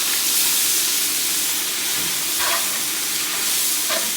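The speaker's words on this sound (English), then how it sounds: "So the veggies are cooking. This is on full blast." Onions, carrots and celery fresh from the garden sizzle in a pan over full high heat, making a steady loud hiss. The hiss swells slightly in a couple of places, and no one speaks.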